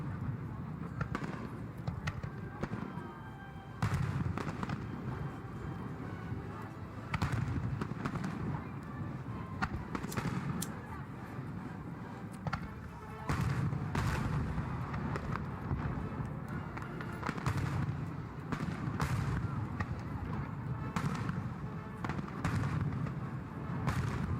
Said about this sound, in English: This fireworks show cost more than the entire Sprecher brewery at the time.